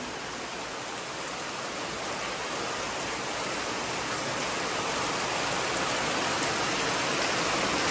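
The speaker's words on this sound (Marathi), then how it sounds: "पावसाने बाबा आज काय चालवलंय ते बघा, केवढा पाऊस पडतोय." Heavy rain pours steadily in a dense, unbroken hiss, loud and constant throughout with no voices.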